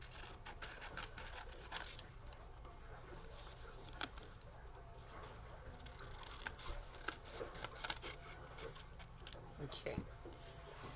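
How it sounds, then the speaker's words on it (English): Quiet, steady snipping and rasping of scissors through paper, with small irregular clicks over a low background hum. "I am doing it this way with my scissors."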